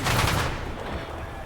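Gunfire in the War Thunder infantry mode video game, a dense burst of shots that is loudest at the start and then continues as quieter rapid firing.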